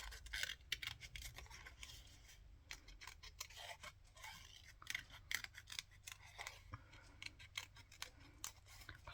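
Scissors cut out collage paper in rapid, uneven snips with crisp rustling between them. The cutting is close and continuous, and no one speaks.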